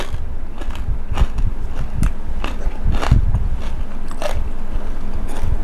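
Someone bites and chews crispy deep-fried pork belly, with repeated loud close crunches and crackles at an irregular rhythm over a constant background hum.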